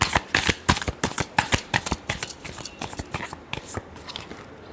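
Tarot cards shuffled by hand in a rapid series of crisp riffling snaps and flutters, close and clear, with no voices.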